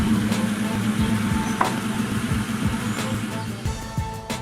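Idling engine of a Ford Mustang with a 4.6L V8, running after an oil change, heard as a steady low rumble with faint periodic pulses throughout, moderately close and with no talking.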